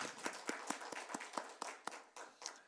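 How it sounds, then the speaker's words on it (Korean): A church congregation claps in a steady rhythm at a Sunday worship service, the sharp beats coming about four or five per second and fairly soft, with no talking over them. "우리 정말 진심으로 하나님 앞에 감사하는 마음으로 박수를 드립니다."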